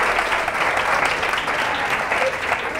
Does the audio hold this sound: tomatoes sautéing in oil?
no